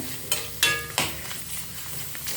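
Appalam being deep-fried a few at a time in a small kadai of hot oil, a steady close sizzle broken by three quick crackling bursts as the papads hit the oil.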